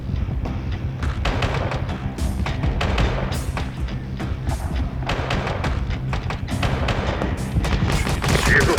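Gunfire in the video game Ukrainian Warfare: Gostomel Heroes: dense, irregular bursts of rifle and machine-gun shots with thumping impacts crackle continuously, loud and close, with occasional voices under the barrage.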